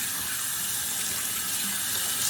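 Tap water runs steadily into a sink as hands are washed under it, a continuous close splashing hiss with no pauses and no voices, filling the whole stretch.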